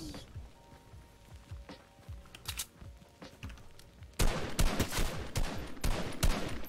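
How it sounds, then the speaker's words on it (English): Gunfire in an online shooter game: a few faint sharp shots early, then a louder burst of rapid repeated shots near the end, over a continuous game soundscape. "I hear the gunshot."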